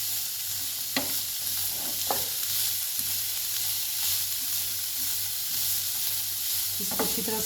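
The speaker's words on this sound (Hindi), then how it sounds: "इसको हम थोड़ा सा हिला देंगे। इसको अच्छी तरह से जब तक ये सॉफ्ट होंगे हम सौते कर लेंगे।" Ingredients for Kabuli pulao stirred and sautéed in a pan, a steady broad sizzle with occasional scrape and clink of the spoon, no talking.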